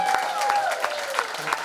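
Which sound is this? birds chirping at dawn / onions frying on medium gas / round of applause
round of applause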